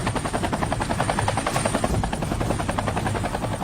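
A helicopter's rapid rotor thump pulses steadily and loudly throughout a film scene, with no talk over it.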